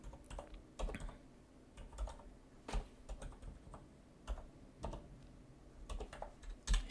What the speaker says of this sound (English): let me type the whole thing